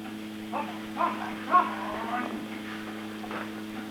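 Cattle on a farm lowing as they are herded out, several short moos rising over a steady low mechanical hum, fairly near and moderate in level.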